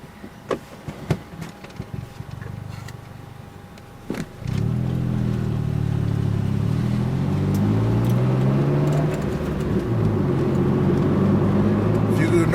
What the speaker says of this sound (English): Notice my car sounds loud.